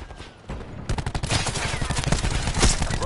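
Dense automatic gunfire from a Black Ops multiplayer match rattles at a robot, rapid overlapping bursts that begin after a short quiet lead-in and stay loud and close throughout, with no one talking.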